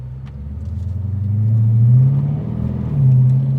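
A loud car engine rumbles and revs in deep, rising surges, heard close from inside the cabin without talk.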